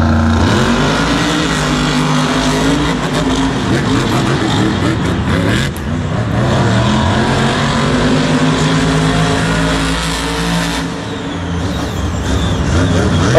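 Monster trucks racing at MetLife Stadium during a 2019 Monster Jam event, a loud continuous roar of engines revving and straining throughout, with a brief dip midway before the roar returns.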